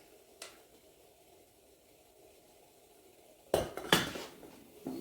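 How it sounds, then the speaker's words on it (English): Spoon scraping and clinking against a pot while stirring melting candy coating for Oreo balls, faint at first, then a few louder scrapes and knocks near the end. "You just keep stirring."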